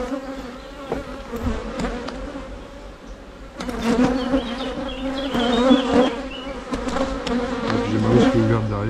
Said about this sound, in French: C'est les butineuses qui reviennent, donc c'est normal au bout d'un moment.